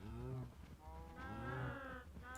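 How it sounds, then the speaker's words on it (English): Cattle in Minecraft let out two drawn-out, close moos, one right after the other, with no talk. "So there go all the little baby cattle."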